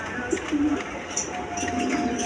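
Garret pigeons with white eyes, kept as a pair with one sitting on eggs, give soft, low coos in short separate bursts against quiet background noise, with a faint hint of a voice.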